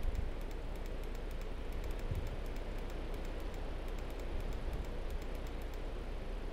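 Continuous rainfall in the Minecraft video game, an even, moderately loud hiss of drops that runs unbroken with nothing else over it.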